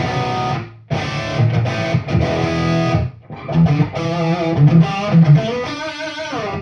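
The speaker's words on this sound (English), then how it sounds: "So that's the sound of microphones way back from the cabinet." Overdriven electric guitar playing through a Celestion speaker cabinet, picked up by room microphones placed well back, giving a roomy, ambient tone; chords with brief gaps, then riffing single-note phrases, loud and without speech.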